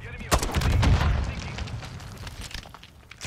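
Turret gun fire in the video game Modern Warfare 3, a loud burst of heavy booming shots near the start that tapers into scattered rumbling bangs, with voices faintly mixed in.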